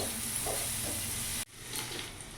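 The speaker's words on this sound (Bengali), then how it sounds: "মিডিয়াম আঁচে আমি পেঁয়াজটাকে শ্যালো ফ্রাই করে নিয়েছি।" Finely chopped onion shallow-fries over medium heat in a pan for paneer butter masala, a steady close sizzle and hiss that cuts off abruptly, then returns more faintly.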